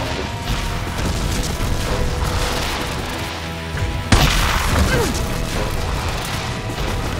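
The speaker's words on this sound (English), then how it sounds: "Grenades out!" A heavy grenade blast bursts out midway through a loud, chaotic firefight in Wolfenstein: Youngblood, a sudden booming crash over steady rumbling combat noise.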